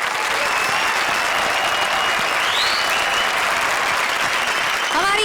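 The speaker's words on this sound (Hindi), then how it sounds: "हमारी चारों शायराना जोड़ियों के लिए एक बार जोरदार तालियां" Audience at a live comedy stage show applauds the four poet pairs called on stage, steady dense clapping and cheering throughout, loud and continuous with no talk.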